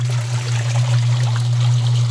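A Suggar Lavamax 10 kg washing tub agitates water, with a loud, constant motor hum beneath continuous sloshing and trickling, close and steady throughout.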